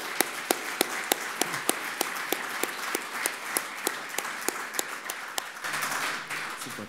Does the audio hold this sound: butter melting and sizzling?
no